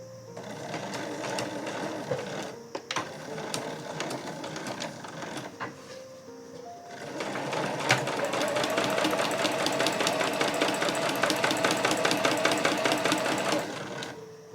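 A sewing machine stitches a tucked fabric pouch with a steady, rapid mechanical chatter, slower and lighter at first, then running continuously and louder for several seconds.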